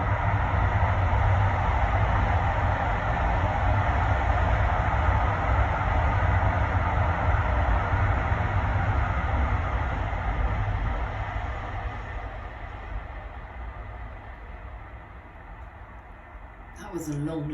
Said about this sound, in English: That was a long, loud, fast train.